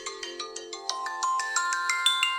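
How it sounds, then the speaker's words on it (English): A bright electronic ringtone plays a quick melody of chiming notes, repeating steadily and growing slightly louder, with nothing else audible. "Let me imagine actually waking up to this one."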